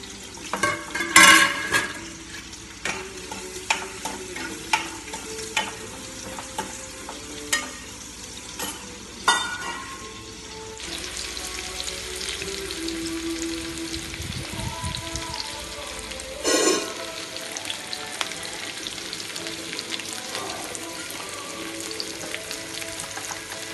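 Brinjal curry frying in a pan, stirred with a steel spoon in a home kitchen: steady sizzle with repeated sharp metallic scrapes and clinks of the spoon, louder bursts early on, no talking.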